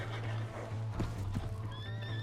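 A horse in the video game Red Dead Redemption 2 gives a loud, close whinny, with hoof clops and a low steady drone underneath in a short burst.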